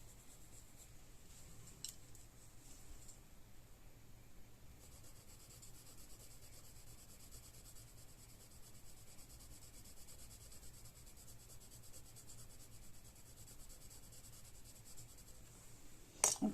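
A Staedtler Karat Aquarell watercolour pencil in brown colouring lightly on untreated watercolour paper, a faint continuous scratchy rubbing, quiet and close, with a small knock at the end.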